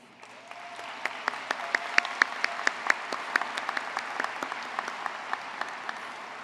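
Audience applause at a high school graduation ceremony for standing school board members, a sustained dense patter of many hands with distinct louder claps, steady throughout before easing slightly.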